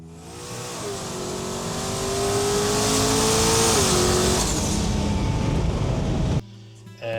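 A turbo LS Firebird accelerates hard on a 21 PSI boost pull, its engine note climbing steadily and growing louder for several seconds before cutting off abruptly into a quieter idle.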